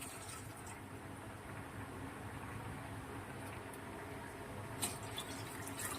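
Water pours and splashes steadily into a pan on a gas stove in a home kitchen, a continuous close trickle with no voices.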